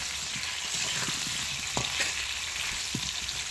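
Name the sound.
potatoes frying in a pan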